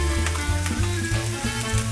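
Crushed garlic hitting hot oil in a pan, a bright close sizzle with crackling spits that flare and settle in quick pulses, loud and alone.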